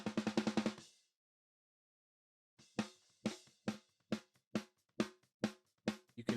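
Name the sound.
gated snare drum with hi-hat bleed reduced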